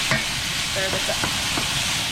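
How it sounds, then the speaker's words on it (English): Tomato, shallot and garlic sauce stirred in a pan outdoors at a campsite, a short burst of steady sizzling with a few scrapes of the spoon, close and moderately loud. "Stir this up."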